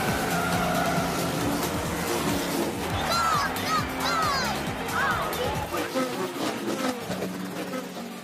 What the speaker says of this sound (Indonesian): Mobil-mobil melaju dengan kecepatan penuh.